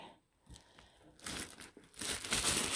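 Crinkling and crumpling of a Dooney and Bourke dust bag being unfolded by hand, starting soft and growing into louder rustling bursts near the end.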